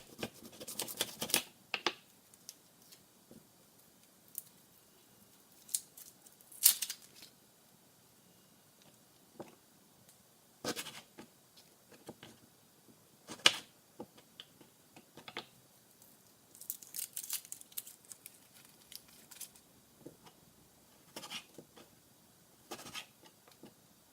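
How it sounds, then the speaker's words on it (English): Knife cutting, peeling and mincing shallots on a board, heard as scattered sharp taps and scraping chops in irregular bursts, close and fairly quiet, with no talking. "Now take your shallots, cut them in half, peel them, and mince them until you have 3 tablespoons worth."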